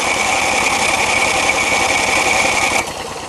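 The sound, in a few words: snowblower engine being cranked and started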